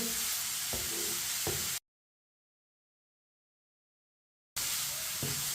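Finely chopped capsicum being stirred into a frying Chinese kebab mixture, giving a close hiss of sizzling with soft scraping stir strokes. The sound cuts to full silence for a few seconds, then resumes.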